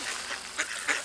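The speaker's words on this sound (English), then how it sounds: "Oh, here come the geese." Geese at a marsh bird-feeding spot give a couple of quick, nasal honks against a busy, noisy outdoor background.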